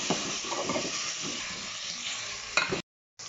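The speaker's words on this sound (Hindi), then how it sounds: "प्याज ये लाइट ब्राउन हो गए हैं, इसमें हम चिकन डालेंगे।" Continuous sizzle of chicken frying with light-browned onions in a pan, with occasional stirring clatter, ending in a brief silence.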